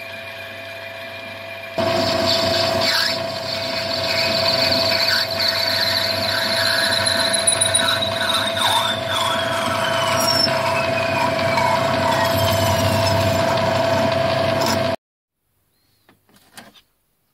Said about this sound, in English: I turn a couple of thumb screws out of brass.